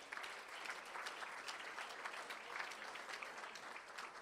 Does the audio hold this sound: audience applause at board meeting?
yes